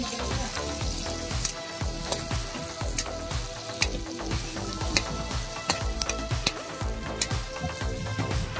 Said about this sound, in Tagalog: Ang sakit ng mantika, tumatalsik.